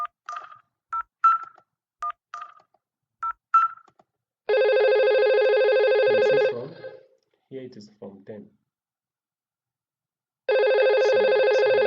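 Simulated Cisco IP phone in Packet Tracer: a string of short dialing tones, then long electronic ring bursts separated by gaps, with someone speaking in between.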